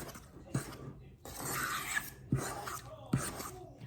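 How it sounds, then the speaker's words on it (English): A spatula scrapes the bottom of a mixing bowl holding a thick Rice Krispie treat mixture, with repeated close, soft rasping strokes separated by brief pauses. "I'm just really making sure I'm scraping that bottom"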